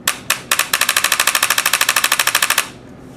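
An X7 paintball marker fires in 3-shot full auto mode: two quick opening pops, then a rapid, even burst of about twenty sharp close shots that stops abruptly.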